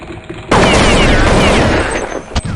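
Loud, close automatic gunfire erupts in a video game after a brief quiet start, a dense sustained burst with metallic ringing that eases near the end, followed by another sharp shot.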